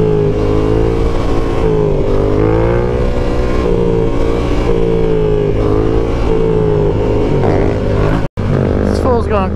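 A Yamaha R7 sport motorcycle engine revs steadily and loudly up close, its rising and falling tone holding through the whole ride on a bumpy road, with a voice talking over it and a brief dropout near the end.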